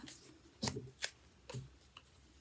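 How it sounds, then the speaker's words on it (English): A paper craft strip for an ocean-themed puffer fish project is folded in half, giving a few crisp, close crinkles and creasing rustles spaced over a couple of seconds, with no talking. "So I'm going to take that strip, fold it in half"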